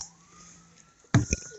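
A siren from an ambulance or police car wails faintly in the distance over a rural farm, then is cut off by a couple of loud, close knocks.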